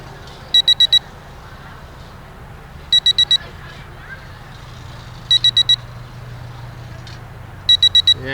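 Bursts of four rapid high-pitched electronic beeps from a drone remote controller repeat every couple of seconds, sharp and close, over a low background hum.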